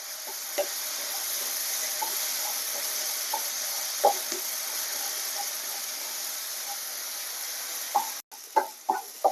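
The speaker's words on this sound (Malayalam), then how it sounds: "ടൊമാറ്റോയുടെ ഒരു പച്ചമണം ഒന്ന് മാറി കിട്ടണം അതുവരെ നമുക്കിതൊന്ന് മിക്സ് ചെയ്ത് കൊടുക്കാം" Tomatoes fry in a pan for a paneer butter masala, giving a steady soft sizzle. Occasional light scrapes and knocks come from stirring, with a few louder clatters near the end.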